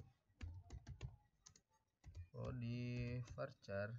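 Computer keyboard keys clatter in quick bursts of typing, close and moderately soft, with a person speaking over part of the keystrokes.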